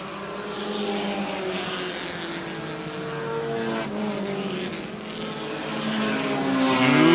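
Stock cars race around the Airborne Speedway oval as a pack of engines drones and swells, passing at a moderate distance with a rising roar toward the end.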